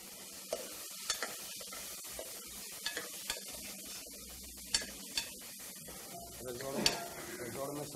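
Potato curry, ras wala batata, added to a pan and stirred, with a low sizzle under repeated light clinks and scrapes of a utensil against metal, spaced irregularly and fairly close.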